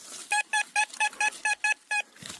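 A metal detector gives a string of about nine short, sharp electronic beeps in a quick, slightly uneven rhythm, fairly close and clear, with a faint rustle at the end.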